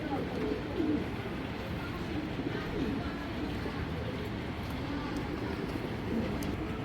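Grizzle racer pigeons coo softly amid a constant rumbling background, their low calls faint and partly masked throughout.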